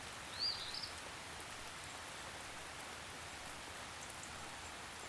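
Spring rain falling steadily on a pond, a soft, even hiss of countless droplets, distant and constant, with a faint brief chirp early on.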